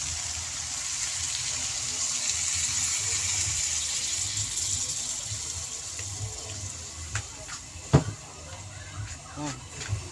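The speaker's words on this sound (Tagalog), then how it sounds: "Lalagyan natin ng konting tubig." Water running and splashing into a cooking pot from a tap for chicken tinola, a steady hissing pour that fades toward the end, followed by a few clanks and a voice speaking.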